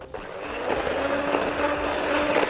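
An electric mixer whirs steadily as it beats batter for an English coffee or lemon cake, a continuous mid-level motor drone that starts abruptly and holds without pauses.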